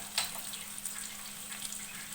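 Ginger garlic paste sizzles in hot oil in a pan while chicken fry is being cooked, a faint, steady crackle with small spits and pops.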